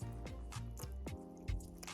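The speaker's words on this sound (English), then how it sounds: "And I'll be adding some Magnum tonic wine." Magnum tonic wine glugs as it is poured into a homemade punch, with several bubbling gulps in a row, close and fairly loud.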